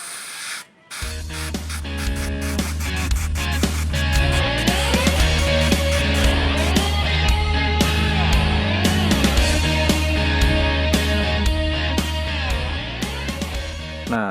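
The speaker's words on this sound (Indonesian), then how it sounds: "Oke, selanjutnya nanti akan kita tutup dan kita semprot." An airbrush sprays paint onto a custom-modified Tamiya mini 4WD car body for an FMA chassis, giving a steady hiss that runs the whole time under loud, continuous background music.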